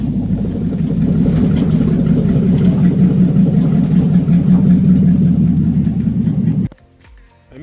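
A 1966 Dodge Coronet on a Chrysler 300 body runs loud and close, its deep steady engine rumble filling about seven seconds before cutting off abruptly.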